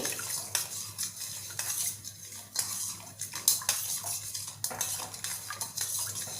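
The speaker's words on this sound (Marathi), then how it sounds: "आता साखर विरघळेपर्यंत आपण छान ढवळून घेऊया" Spoon stirring sugar into kokum sherbet to dissolve it, with repeated clinking and scraping against the glass or vessel and faint liquid swishing, close and fairly quiet.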